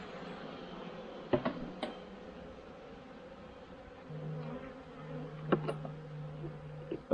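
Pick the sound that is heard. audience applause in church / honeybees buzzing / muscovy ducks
honeybees buzzing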